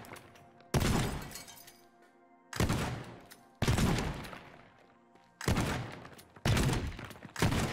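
Five loud, sharp shotgun blasts from the video game Teardown, each a sudden broadband crack with a decaying tail, spaced about a second or two apart with brief quiet gaps between.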